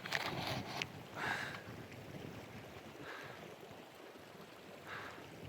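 A river flows past a riverside camping spot at a bend, far from the road, on a bicycle trip: a steady broad rush of water with gusts of wind buffeting the microphone, no voices.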